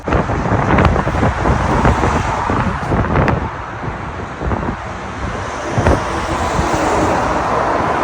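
Strong wind roars and buffets the microphone outdoors, with gusty rumbling and the wash of passing traffic beneath.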